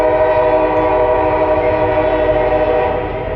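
A Norfolk Southern mixed freight train led by a WFRX locomotive sounds its horn in one loud, sustained chord that fades slightly at the end, with rumbling rail noise underneath.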